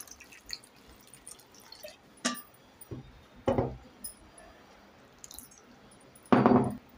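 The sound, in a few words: water poured into pressure cooker with rice and potatoes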